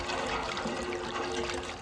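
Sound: water being poured

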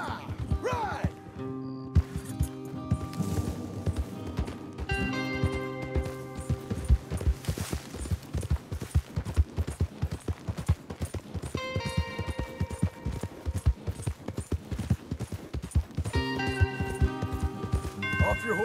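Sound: horses galloping in a video game

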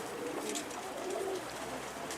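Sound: pigeon cooing in a coop

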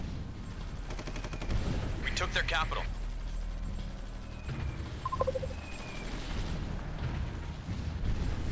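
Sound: artillery bombardment in Supreme Ruler Ultimate video game

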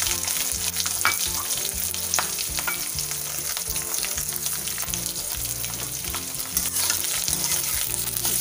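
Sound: frying onions in a kadhai

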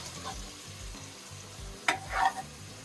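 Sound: stirring fish eggs with tomato in a pan

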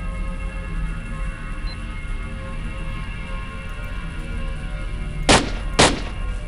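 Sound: gunshot headshot in video game STALKER Lost Alpha

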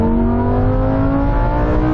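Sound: Lamborghini Sterrato and Porsche 911 Dakar accelerating in rolling race

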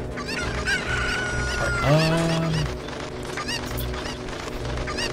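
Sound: chicken clucking in The Legend of Zelda: Ocarina of Time video game

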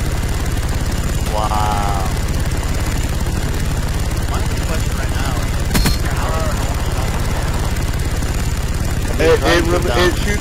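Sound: aircraft killstreak flying overhead in Call of Duty video game

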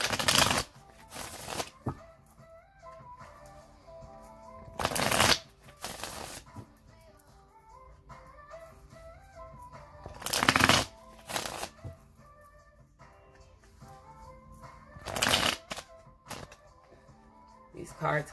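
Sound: shuffling tarot cards

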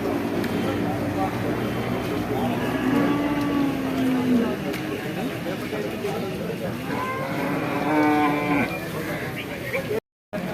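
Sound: buffalo calves mooing at Kollannur cattle market

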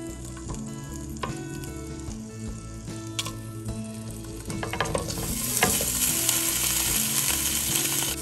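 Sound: paneer cubes roasting in ghee in a pan

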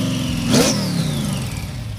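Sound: supercharged car accelerating with blower whine

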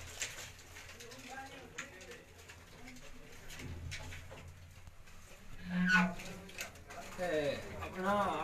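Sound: pigeons cooing

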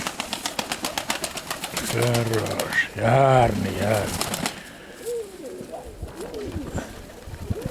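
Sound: pigeons

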